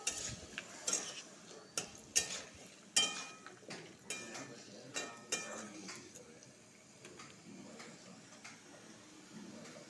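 Pumpkin stir-fried in a pan with salt and turmeric: a spatula clinks and scrapes against the pan in irregular, fairly quiet strokes, spaced about a second apart, then the stirring grows softer.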